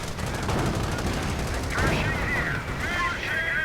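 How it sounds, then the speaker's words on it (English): Heavy rifle and machine-gun fire from German Panzergrenadier infantry in a war strategy video game, a dense continuous rattle of overlapping bursts with someone talking over it. "Anti-tank guns getting sorted out by heavy Panzergrenadier fire"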